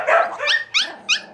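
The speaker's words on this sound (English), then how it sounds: "See how irritating that barking is?" A Pomsky puppy barks in a run of four sharp, high yips, close and loud, with short pauses between them.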